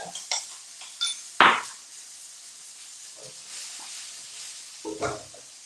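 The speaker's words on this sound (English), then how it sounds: "give it another stir" Aubergine being stirred in a cooking pan, with a spoon scraping and clanking against the metal over a soft, steady sizzling hiss; a few light knocks and one loud, close clatter.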